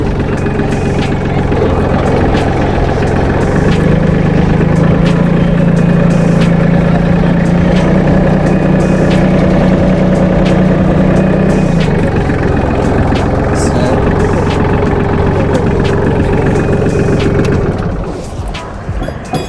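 A Solis 26+ mini tractor engine runs steadily and loudly up close, a constant low diesel-like drone with a held tone that shifts partway through, easing off near the end.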